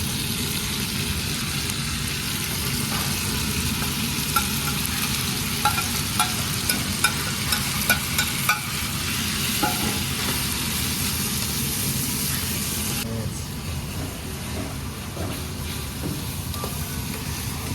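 Tomato pieces for Turkish menemen sizzle and fry in a pan, with a steady loud hiss and occasional stirring scrapes throughout; no talking.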